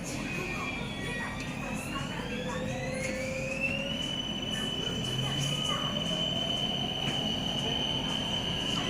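BTS Skytrain Green Line train running between stations, a steady loud rumble of wheels on rails with rising and falling high-pitched motor whine and occasional squeals, heard from inside the car throughout.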